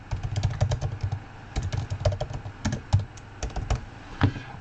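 Typing on a computer keyboard while entering an expression into modelling software, a steady run of close, crisp key clicks in uneven bursts with short pauses.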